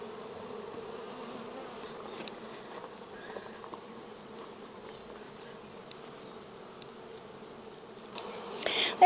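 Honey bees buzz on a hive frame in a dense, steady hum, close and continuous, swelling slightly louder at the very end.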